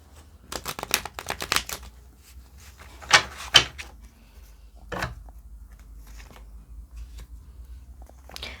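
Tarot cards shuffled by hand close up, a burst of rapid riffling flicks followed by a few sharper slaps and softer card handling in a quiet room.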